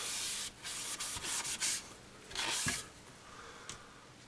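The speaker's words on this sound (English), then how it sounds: "So as you can see, I'm just lightly dampening the surface." A damp cloth is wiped across the wooden interior of a humidor, giving soft, close rubbing strokes in irregular bursts, quiet and with no talking.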